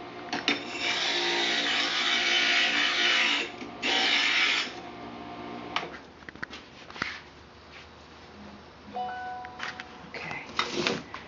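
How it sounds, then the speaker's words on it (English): A stained glass grinder shaping a piece of glass for a narcissus panel gives a harsh, loud, steady grinding whir in two long passes, then quieter clinks and taps as the piece is handled, close by. "I'm gonna tweak it just a little bit with the grinder."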